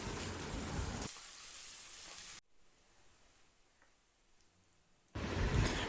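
Onions sizzle in hot oil in a pan, with salt added to help them brown, as a steady frying hiss that drops quiet midway before returning loudly.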